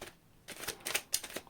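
A deck of tarot cards shuffled in quick bursts of riffling and flicking, close and crisp, a few short rustles spread over a brief moment with no voice.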